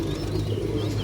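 A pure Monajak pigeon coos in a low, steady purr, close and fairly loud, held throughout the brief moment.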